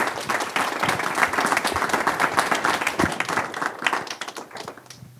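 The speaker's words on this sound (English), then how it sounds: "please give a round of applause for David and Jeanette." An audience at a university talk applauding the speakers, sustained clapping from a crowded room that stays fairly even before thinning and fading near the end.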